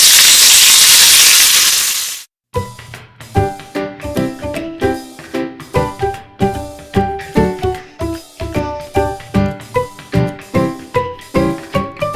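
Oil hisses and sizzles loudly, then sharp crackling pops and spattering take over in quick irregular bursts as onions and chillies hit the hot pan.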